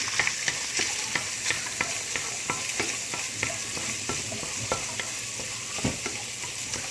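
Garlic and onion sautéing in hot oil for fried rice, a steady close sizzle broken by regular scraping and stirring strokes of a utensil against the pan, with no talking.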